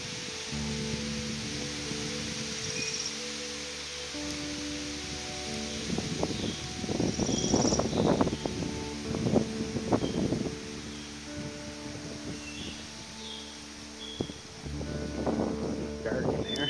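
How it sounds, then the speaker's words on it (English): Breeze blowing across a Vermont Green Mountains landscape, a steady soft rush with gusty swells of wind buffeting the microphone, while a person speaks intermittently over it. "little bit breezy today."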